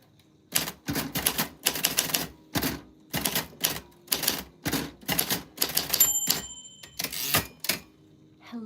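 Typewriter keys struck one after another in quick clusters of sharp, loud clacks with short pauses, a bell-like ding partway through, close and without talk.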